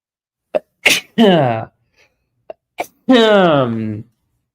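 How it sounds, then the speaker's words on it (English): Two loud sneezes up close, each preceded by a sharp gasping intake, with a short pause between them. "Sneezes of truth."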